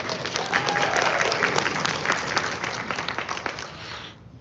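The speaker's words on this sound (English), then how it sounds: "The first question of the day, round of applause." An audience at a Brony fan-convention panel at Everfree Northwest applauds with dense clapping and a few scattered cheers that hold steady, then cut off abruptly near the end.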